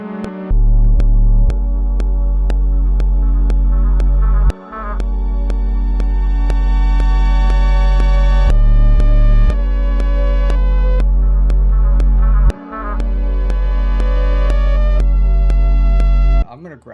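Reversed sample played back in music production software, a sustained synthetic tone with strong steady low bass pulses and bright layered harmonics, swelling in repeating sections with brief dips between, loud and alone.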